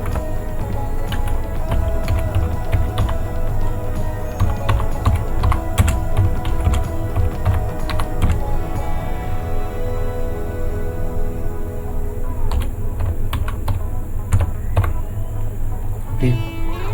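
Rapid, uneven keystrokes clatter on a computer keyboard for the whole stretch, close and fairly clear over a faint room hum, with no talking.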